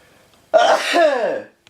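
A single loud human sneeze, sharp onset then a drawn-out voiced tail lasting about a second, close and alone in a quiet room.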